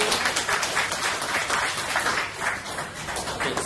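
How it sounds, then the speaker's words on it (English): An audience at a maker group tech talk on mechatronics applauds in a steady, dense burst of clapping that fills the whole stretch at even loudness. "another round of applause."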